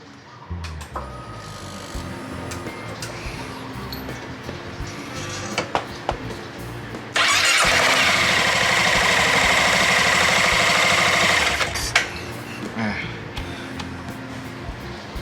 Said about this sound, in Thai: สตาร์ทรถก่อน นะ